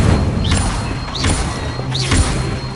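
Fire spells cast in the Hogwarts Legacy video game: three repeated whooshing bursts with rising swishes, each ending in a dull boom, over a steady low game background.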